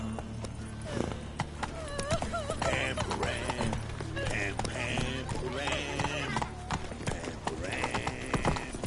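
Roach, Geralt's horse in The Witcher 3 video game, gallops with steady clip-clop hoofbeats and an occasional whinny, set among game music and ambient effects, with a voice speaking over it at times.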